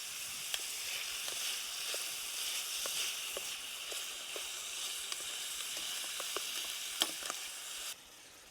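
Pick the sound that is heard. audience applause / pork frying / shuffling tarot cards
pork frying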